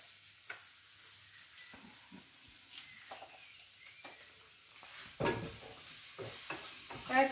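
Vegetables and couscous simmering in a pan, a soft crackling and bubbling texture with occasional clicks and stirring knocks, steady and close, no talking.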